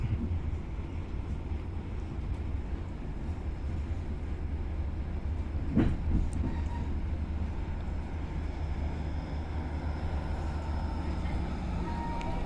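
Pasundan economy-class passenger train with upright seats, heard from inside as a steady low rumble of running wheels and carriage noise, with one brief clank near the middle.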